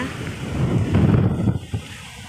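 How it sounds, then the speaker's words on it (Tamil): Strong gusting wind during a cyclone roars and buffets the microphone in a low rumbling surge that rises and then drops away, with a voice briefly heard. "செம்ம காத்துங்க சவுண்டு எப்படி கேட்குதுன்னு பாருங்கள்"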